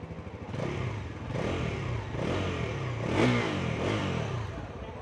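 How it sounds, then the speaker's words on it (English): A Bajaj Pulsar NS400Z motorcycle engine with an underbelly exhaust revs repeatedly, rising and falling in pitch with a throaty, rumbling exhaust, close by and steady for several seconds. "this has an underbelly exhaust, and this is what it sounds like"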